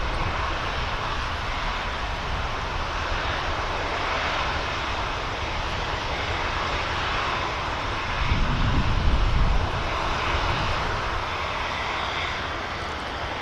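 A Turkish Airlines jet taxiing out at Manchester Airport for its return flight to Istanbul, giving a steady, broad engine roar with a low rumble swelling briefly near the end, mixed with some wind noise and no talk.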